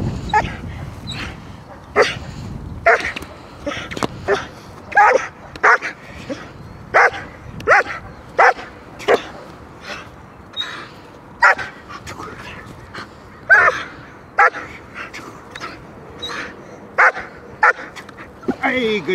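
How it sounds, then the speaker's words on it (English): A seven-month-old German Shepherd puppy barks in strong, repeated bursts during guarding training, the loud barks coming steadily close by with a handler's voice in between. "We're gonna teach her barking now."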